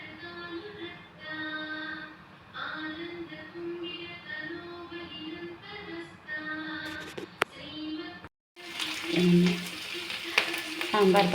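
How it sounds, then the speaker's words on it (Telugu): A pot of Karnataka-style idli sambar with spinach bubbles and sizzles on the stove, a steady simmering hiss with soft pops, growing louder and busier near the end. "సాంబార్ చూడండి ఉడుకుతుందన్నమాట"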